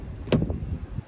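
The heavy hood of a 2024 GMC Terrain with a 1.5-liter turbocharged four-cylinder closes with a single muffled thunk, shut firmly without slamming, followed by a faint rattle.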